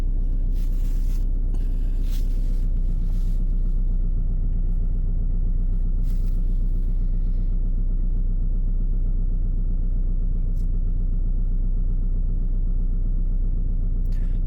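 A Renault Kadjar 1.5 dCi 110 diesel engine idles unevenly from cold, a steady low rumble with a slight irregular wobble, heard close and alone with a few brief scrapes early on.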